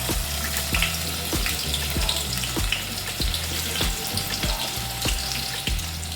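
Whole spices and onion frying in hot oil for a spicy chicken sukka, a steady close sizzle with watery hiss and repeated knocks of a spoon against the pan throughout.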